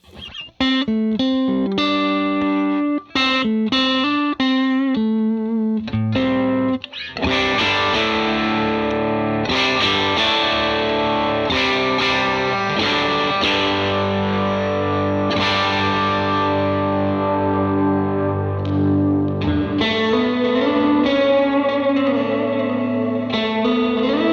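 An electric guitar through a boost pedal plays boosted, overdriven chords and riffs, loud and sustained, ringing with slight chorus and reverb throughout.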